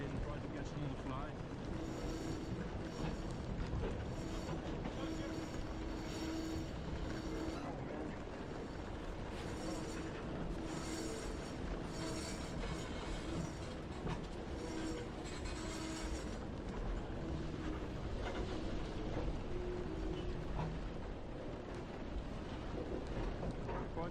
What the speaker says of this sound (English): The train's going so slow, so we're going to like jump out, let it roll by, and try to catch it on the fly.